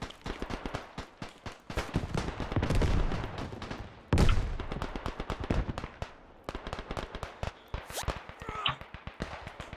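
Dense, rapid cracks of gunfire and sniper shots ring out in a World War I shooter game set during a 1918 assault, the sharp bursts near and loud, piling over one another almost without pause.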